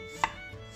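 Fresh ginger is sliced thin with a knife on a cutting board, a single crisp, close chop in a quiet kitchen.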